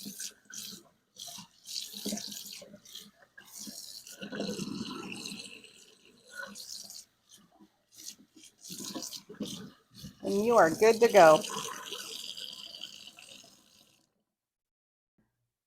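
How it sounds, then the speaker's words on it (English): Hot tap water runs into a sink while a cast iron skillet is rinsed, a steady splashing that swells louder near the end, with a person talking over much of it. "so you rinse that down with hot water."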